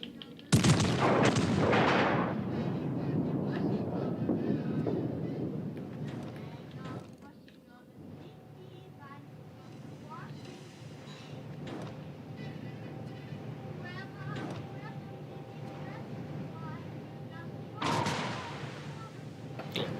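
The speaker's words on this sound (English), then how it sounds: "Concentrate fire on the enemy warship." Naval gunfire aboard a warship in a video game: a heavy broadside blast opens, scattered firing and a steady engine hum follow, and another loud salvo comes near the end, with voices talking throughout.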